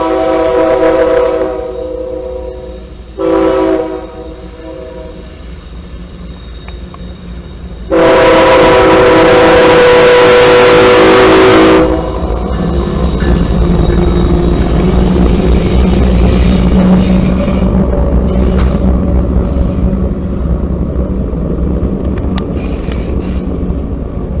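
A CSX freight train in Chesapeake & Ohio markings approaches in Cordele, its horn sounding in short blasts and then one long loud blast, with rumbling wheels and engine building underneath.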